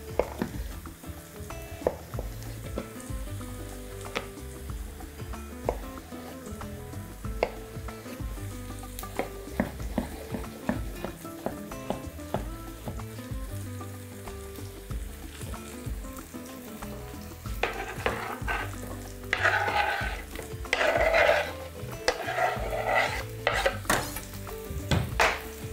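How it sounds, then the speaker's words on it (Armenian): Chopped zucchini frying in a pan for a Thai-style chicken breast dish, a steady sizzle with scraping stirs and clinks of utensils against the pan, growing busier and brighter toward the end. "տապակում ենք։"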